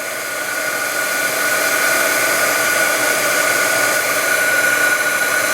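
An Altex heat gun running on high heat to shrink solder sleeves gives a steady, loud blowing roar like a hair dryer, continuous and close from start to finish.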